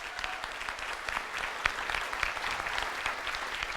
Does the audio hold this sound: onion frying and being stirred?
no